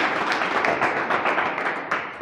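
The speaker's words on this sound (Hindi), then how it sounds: "तालियां नहीं रुकनी चाहिए।" Continuous audience applause carries on at an RCM team meeting, a steady wash of many hands clapping with scattered sharper claps throughout.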